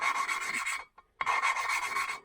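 Valve being lapped with grinding compound on a 2023 Kawasaki KLX300D motorcycle engine, a close raspy scraping in two rubbing bursts separated by a brief pause.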